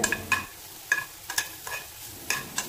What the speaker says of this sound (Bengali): কুচনো নারকেলটাকে ভেজে নেব একেবারে লালচে করে। লো ফ্লেমে করতে হবে